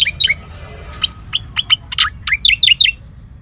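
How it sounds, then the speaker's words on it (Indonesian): A cicak koreng bird sings alone in a series of sharp, high, whistled chirps and short trills, close and clear over a faint low background hum, quickening toward the end. "Sobat Kicau semua bisa dengarkan kicauan daripada burung cicak koreng gacor."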